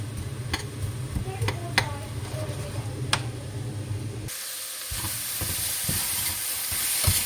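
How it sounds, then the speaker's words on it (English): Frozen vegetables stir-fried in olive oil in a pan give a steady sizzle and hiss with scraping stirring clicks, the frying noise brightening and growing louder in the second half; no one speaks. "So first thing I'm going to do is just stir fry up the frozen veg."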